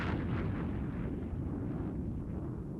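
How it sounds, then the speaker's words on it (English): A deep, sustained rumbling explosion depicting the Big Bang rolls on as a loud, low roar that slowly thins without any distinct bursts. "The universe then exploded in the Big Bang."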